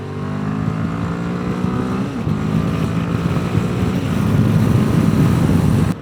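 A Royal Enfield Himalayan 450 cruises in sixth gear on a motorway at around 60 mph, its engine holding a steady loud drone near 5,000 rpm under heavy wind rush, with no pauses.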